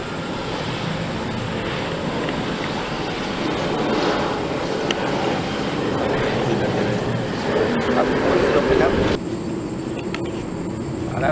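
A Boeing 747-400 airliner landing on runway 19R at Suvarnabhumi, its jet engines a broad, steady roar at a distance that swells slightly before cutting back, with someone speaking briefly over it.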